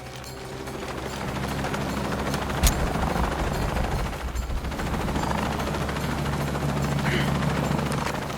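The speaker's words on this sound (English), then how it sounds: "I'm in a chopper." In the Shadow of the Tomb Raider video game, a helicopter's rotor drone hums steadily, with bursts of gunfire and a sharp impact cutting across it.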